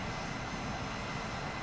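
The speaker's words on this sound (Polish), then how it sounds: "I samoloty wroga. Coś tam jest nad nami." Enemy aircraft flying overhead in a combat flight game featuring the A-10A, a steady engine roar that holds evenly throughout with no speech.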